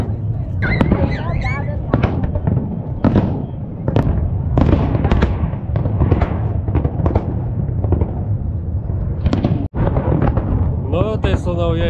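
Fireworks bursting over New York at a New Year celebration, a dense run of loud booms and crackles from a distance, with people talking and cheering throughout.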